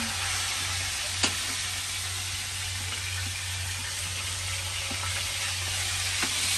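Catfish sizzling steadily in a pan of hot oil on a home stove, a continuous hiss with a low hum underneath and a few faint clicks, no talk.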